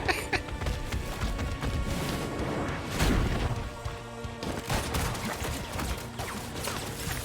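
Gunfire and crashing impacts from an animated fight between DIO and Alucard, a dense, loud barrage of bangs and smashes with music and effects layered throughout, no voices over it.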